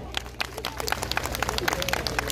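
A crowd at a clown show applauds with rapid, uneven clapping, close and lively, with a low hum underneath and faint voices in the mix.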